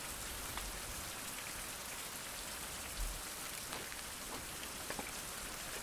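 Steady rain falls in a survival video game, a dense even hiss of drops with scattered patters, with no voices over it.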